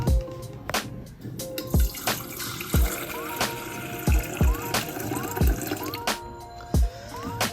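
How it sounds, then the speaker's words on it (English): Water pours steadily into a kettle while making a latte at home, a continuous close splashing rush with sharp rhythmic thumps and clicks recurring throughout. "we're gonna have some water in our"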